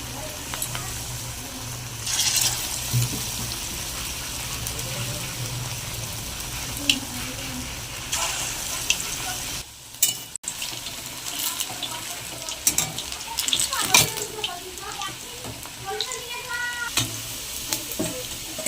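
Chicken kofta balls frying in hot oil, a steady sizzle running throughout with occasional stirring scrapes and a brief dip midway; light kitchen sounds but no clear talk.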